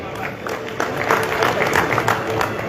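A crowd at a public event in Nashik applauds Uday Thorat, with steady, fairly loud clapping from many hands across the whole stretch and a speaker's voice over it.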